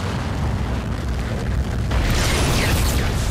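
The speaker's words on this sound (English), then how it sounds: "you can use the explosive canister to detonate the" Explosive canister detonating fuse boxes in Dead Space, a dull rumbling hiss that swells into a loud, bright burst near the end of the short stretch.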